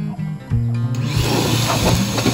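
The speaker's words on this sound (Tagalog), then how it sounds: "Test naman natin ang kanyang blower." Lotus 1,100-watt, 4-litre wet and dry vacuum running in blower mode, a loud motor whine that starts abruptly and holds steady, with a rushing stream of air close by.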